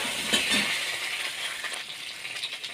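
Potato pieces fry in hot oil with tempered onion and bay leaf for an egg and red lentil dish. A steady, bright sizzle carries on throughout, with a few soft clinks and stirring sounds.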